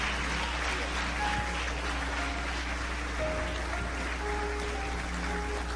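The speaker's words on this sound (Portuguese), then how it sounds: "Aplauda ao Senhor" A church congregation applauding, a steady dense wash of clapping that holds evenly throughout at moderate level, with a faint low hum and scattered voices beneath.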